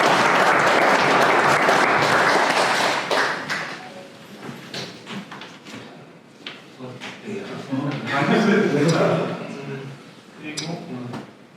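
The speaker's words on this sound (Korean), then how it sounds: "나름 훌륭한 얘기였기 때문에 박수를 한번 쳐주세요" An audience claps at a lecture-style gathering, loud and dense at first, thinning into scattered claps, then swelling briefly again before fading.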